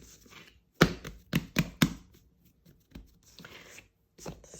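Bread dough for Cantonese steamed buns is punched down: a quick cluster of four soft, heavy thumps, followed by quieter rustling and a few lighter pats at close range.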